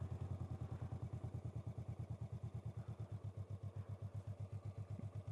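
A motorcycle engine bogs down in the friction zone while held uphill on the rear brake, giving a low, fast, steady thumping pulse. It sounds close and keeps a labored, even rhythm throughout, with no speech.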